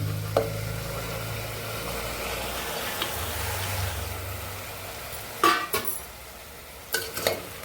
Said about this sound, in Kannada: ಬದನೆಕಾಯಿ ಎಲ್ಲ ಸ್ವಲ್ಪ ಈಗ ಕಪ್ಪಗೆ ಇದೆ ಅಂದರೆ ಫ್ರೈ ಆಗ್ತಾ ಇದೆ